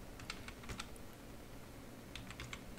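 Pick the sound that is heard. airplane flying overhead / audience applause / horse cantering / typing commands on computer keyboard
typing commands on computer keyboard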